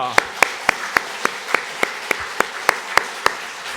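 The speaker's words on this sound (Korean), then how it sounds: "역시 감사하는 의미의 박수를 드리겠습니다" A church congregation at a Sunday morning thanksgiving service claps in unison, sharp, evenly spaced beats about four per second, loud and alone.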